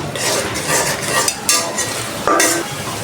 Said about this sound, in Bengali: এখন আমি মশলা সুন্দর করে কষিয়ে নেব